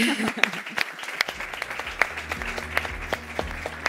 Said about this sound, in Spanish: también podemos aplaudirles